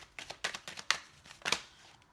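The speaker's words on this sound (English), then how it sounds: "I'll take one more shuffle." Tarot cards shuffled by hand in a quiet room, a run of crisp, papery riffles and slaps in quick irregular bursts, close and moderately loud, with no talking.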